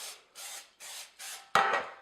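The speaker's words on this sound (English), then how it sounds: "Spray the whole entire pan, sides and all." Cooking spray hits the whole cake pan, sides included, in four short hissing bursts at an even rhythm. A sharper clatter follows right after, all close and fairly quiet.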